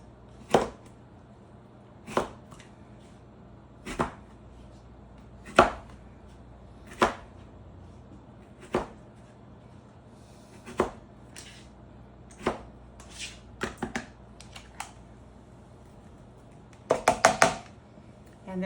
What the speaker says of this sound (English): I couldn't have sliced that any faster at all with my knife.